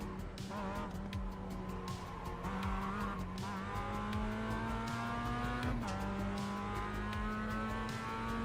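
A Mazda race car in the iRacing simulator, its engine revving hard and held high near the limit, a loud continuous whine that climbs and drops with gear changes, along with tire noise.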